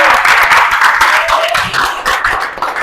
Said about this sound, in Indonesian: Tepuk tangan lagi buat kalian.